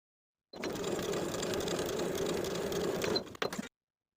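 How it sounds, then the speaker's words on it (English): A sewing machine stitches steadily along the edge of a pants pocket, a continuous close whirring run of about three seconds that ends in a few short, uneven bursts. "We're going to sew along the edge of the pocket, catching the seam allowance underneath as we go"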